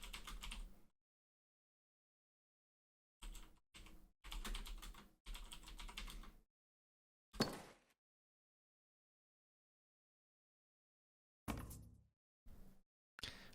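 Bursts of computer keyboard typing during an online Colonist.io game: quick clattering runs of keystrokes separated by long silent pauses, with a sharper isolated clack midway and short flurries near the end.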